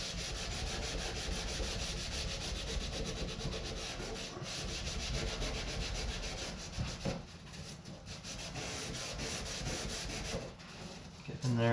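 A carbon steel knife blade is scrubbed with a green scrubby pad and abrasive cleaner, giving a steady, close, continuous rubbing and scouring sound with brief pauses near the end.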